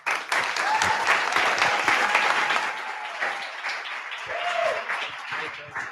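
A crowd at a business pitch competition applauds steadily, dense clapping with scattered whoops and cheers from a supportive group, holding at an even level throughout.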